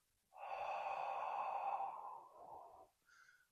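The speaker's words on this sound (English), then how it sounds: "Without a tool, ocean breathing is really nice." One long, breathy exhale is pushed through partly closed vocal cords, giving a hollow, ocean-like rush. It is close and sustained for about two and a half seconds, then tails off, and a short higher breath follows.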